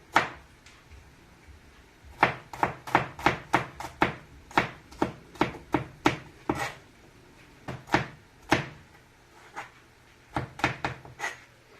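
Sharp knife chops on a cutting board as garlic is chopped, coming in quick irregular bursts of several strokes with short pauses between, close and fairly loud, no talking.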